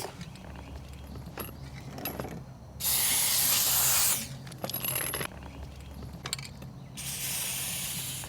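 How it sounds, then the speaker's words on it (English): Lubricant sprayed from an aerosol can along a tractor PTO shaft in short hissing bursts, one longer spray and several brief ones separated by pauses and faint metallic handling noises, close to the microphone. "So let's go ahead and just spray a little bead down there."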